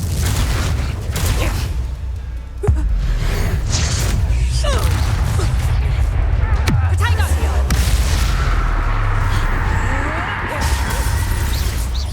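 Fiery blast from a Confringo spell in Hogwarts Legacy during a duel, a sharp booming burst around a few seconds in, followed by rumbling, whooshing combat effects under a steady low drone.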